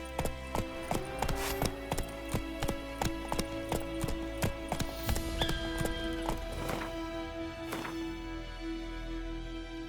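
Roach, the horse in the video game The Witcher 3: Wild Hunt, gallops with steady rhythmic hoof clops over a game music bed, moderately loud, with no talking.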